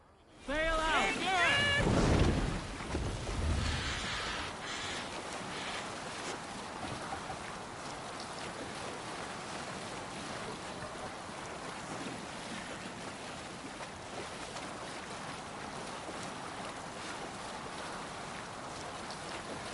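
A Viking longship sails at sea in Assassin's Creed Valhalla, with a brief chanting or shouting burst at the start giving way to a steady wash of waves, wind and creaking water noise.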